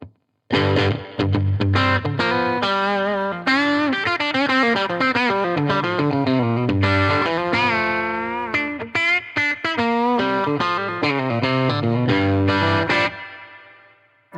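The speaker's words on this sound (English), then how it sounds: "Now, I know you're hearing some spring reverb" An overdriven electric guitar plays fast melodic lead lines through a Fat Jimmy Avionic amplifier with a spring reverb pedal, loud and close, with bends and sustained notes trailing off at the end.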